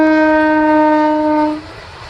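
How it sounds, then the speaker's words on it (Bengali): A train horn sounds near a village, one long steady blast held for about a second and a half before cutting off, leaving quiet rumble behind. "ওই যে ট্রেন আমার পিছনে ট্রেন যাচ্ছে দেখতে পাচ্ছ তোমরা"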